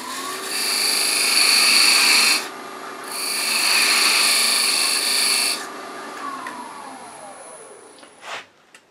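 A 1/16-inch parting tool cuts a recess in wood on a lathe for threading: two loud, close, screeching cutting passes, each a couple of seconds long, over the motor's hum, which then winds down and ends with a soft clunk.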